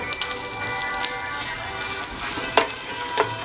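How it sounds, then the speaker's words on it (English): Food frying in a pan, a steady close crackle and sizzle with occasional louder pops and spits, heard alone without talking. "Now it's frying. Do you see that? Look at that. Look at the beautiful frying."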